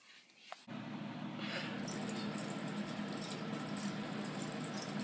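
A faint, steady whir carries constant light rattling and clicking of ice shifting and knocking inside a running homemade air conditioner fan unit, after a brief soft thump.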